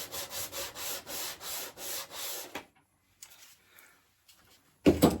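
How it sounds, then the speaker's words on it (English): Sandpaper rubs the back of a wooden model railway layout piece in about eight quick, rhythmic strokes. A quiet pause follows, and a brief knock ends it. "Let's just sandpaper, smooth the backs off slightly."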